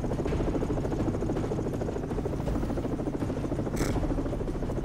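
Helicopters in the video game Call of Duty: Modern Warfare 3 produce a loud, steady rotor whir and engine drone that holds unbroken throughout, with faint clatter mixed in and no talking.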